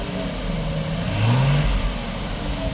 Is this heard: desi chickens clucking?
no